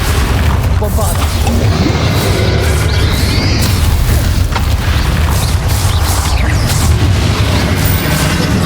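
Loud, continuous booms and bursts of a Bombarda spell during a final boss fight in Hogwarts Legacy, dense and chaotic with overlapping blasts and clatter throughout.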